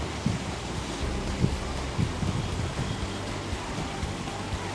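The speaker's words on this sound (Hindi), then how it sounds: "ये सुबह सुबह की हवा और ये पानी की आवाज़" Water at an outdoor morning yoga spot, a steady broadband wash like flowing water or surf, with wind noise on the microphone and a few soft low thumps, no voices.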